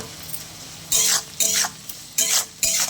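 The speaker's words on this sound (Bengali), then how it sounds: "এটা আমি ঘিয়ে ভাজছি, ঘি আর সামান্য সাদা তেলে।" Rice frying in ghee with a little white oil, with five loud, rhythmic scraping stir strokes close by, each a short burst over a faint sizzle.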